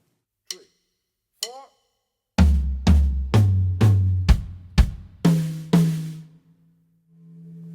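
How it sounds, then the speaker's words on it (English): Drum fill played only on the toms of a kit, two light sticks clicks first, then eight loud resonant tom hits stepping downward in pitch and ringing out close, heard alone. "Play only toms."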